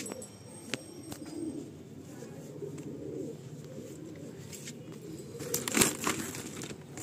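Pigeons newly brought in from far away make low, murmuring coos at close range, mixed with crinkling and rustling handling noise and a brief louder flutter of movement near the end.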